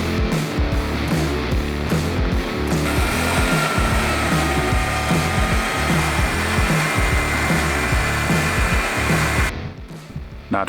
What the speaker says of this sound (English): we're gonna flip to the grinding disc, not the flapper disc, the grinding disc, and clean this edge off so that we end up with flat stock